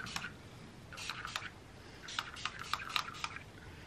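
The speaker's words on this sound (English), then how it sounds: "I'm gonna spray heat protection" Several quick, soft spritzes from a spray bottle of heat protection spray into hair, close by, in irregular bursts of hissing mist.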